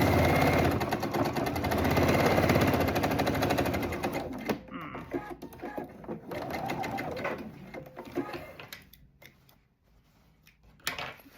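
Close sewing machine stitching a zippered toiletry bag, a steady buzzing run that slows into short stop-start bursts and small clicks as the stitching finishes.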